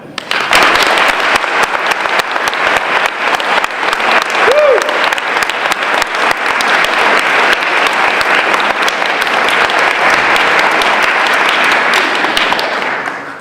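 A debate audience for the Guilford first selectman race applauds the candidates loudly and steadily for over twelve seconds, with a brief voice breaking through midway before the clapping tapers off.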